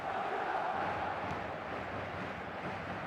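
A stadium crowd in the eFootball video game roars steadily, a dense continuous wash of cheering that holds loud throughout without a break.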